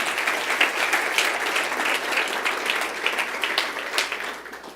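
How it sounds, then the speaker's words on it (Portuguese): Sustained applause from a church congregation, dense and steady clapping filling the whole stretch without pause. "dê um aplauso forte para o Senhor Jesus."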